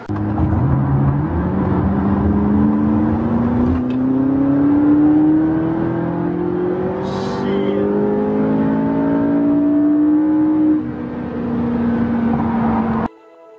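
A brand-new car, with only about 100 miles on it, accelerating steadily as its engine note climbs through the gears, loud and close with no talking, before cutting off abruptly near the end.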